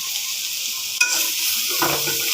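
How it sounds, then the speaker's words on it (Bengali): Bitter gourd sizzles in a pan while a spatula stirs it. A bright, constant frying hiss carries a sharp scrape near the one-second mark and another burst of stirring a moment later. "করলা ভাজি করছি"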